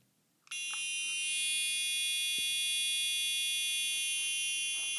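A smoke alarm suddenly blares a piercing, shrill, high-pitched tone that stays loud and continuous, close by.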